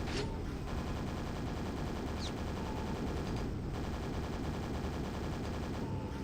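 Super nail gun in Quake: Dawn of the Machine firing continuously in a fast mechanical rattle, loud and unbroken throughout, with occasional sharp metallic impacts.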